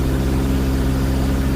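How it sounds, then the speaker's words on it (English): A small aircraft engine drones steadily and loudly in the cockpit while losing power, a dense low hum with no talk over it. "we're losing engine power"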